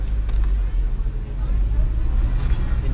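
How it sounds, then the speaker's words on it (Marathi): Low, steady rumble of a car engine at reduced speed during a driving lesson with a half-pressed clutch, heard from inside the cabin as a continuous drone. "आता गाडी बघ स्लो झाली, ॲक्सिलेटर कंट्रोल करतोय"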